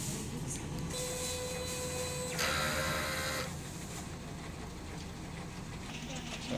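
A large-format DTF printer runs a print head cleaning cycle, giving a continuous mechanical hum with steady whining tones. A louder whirring burst comes partway through, and faint talk sits in the background.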